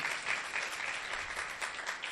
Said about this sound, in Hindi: सारे तालियां बजाते हैं अपने लिए।